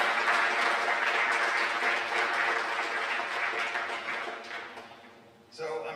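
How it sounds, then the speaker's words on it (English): Sustained audience applause at a high school senior awards banquet fills the room loudly for about five seconds, then thins and fades, with a voice coming in at the end. "give them a round of applause"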